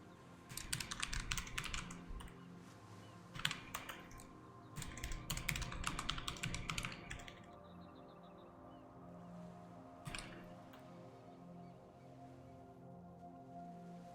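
Quick bursts of clicky typing on a computer keyboard with a faulty O key, fast rattling runs of keystrokes separated by pauses, quiet and close over a low background hum.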